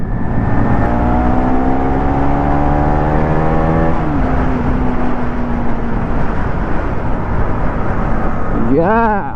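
A Yamaha R15 V3 motorcycle's engine revs up, its pitch sweeping steadily across several seconds before easing, then another quick rising rev near the end, loud and close amid road noise.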